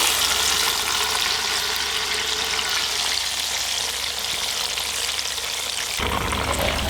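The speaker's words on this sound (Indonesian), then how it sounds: "Setelah ini kita tumis sambelnya." Chili sambal sautéing in oil in a pan crackles with a loud, dense, continuous sizzle close by, with a brief shift in tone near the end.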